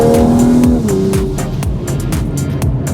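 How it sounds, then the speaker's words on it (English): A 2020 Toyota Supra Launch Edition accelerating hard: the engine roars loud and close, with a quick gear change and rising revs, and no one talking over it. "You step on the gas and you're immediately catapulted forward."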